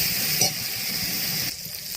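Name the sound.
masala spices being stir-fried for duck egg curry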